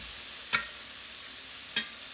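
Burgers sizzle on a grill in a soft, steady hiss, broken by two brief scraping knocks as patties are flipped; no talking.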